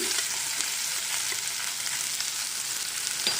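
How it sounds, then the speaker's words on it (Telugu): Onions, green chillies and curry leaves fry in a pan for a brinjal tamarind curry, making a continuous close sizzle with faint stirring scrapes now and then and no talk. "అన్నీ వేసాక ఒకసారి కలుపుతూ ఫ్రై చేసుకుందాం"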